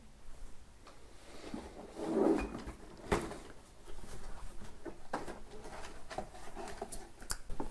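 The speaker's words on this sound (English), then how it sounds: "we are going to open our Sonos One" Close rustling, sliding and soft thuds of cardboard and wrapping as the packaging of a Sonos One speaker is opened, irregular handling noises with a louder scrape partway through.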